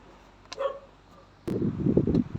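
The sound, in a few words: noisy dog barking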